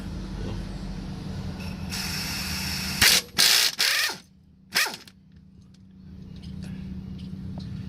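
Ratchet wrench working 13 millimeter bolts on a Ford rear axle, a few loud bursts of mechanical clicking close by over a steady low hum, with no talking.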